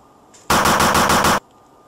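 Video game machine-gun fire in one loud close burst of rapid, evenly spaced shots lasting about a second, against a quiet background.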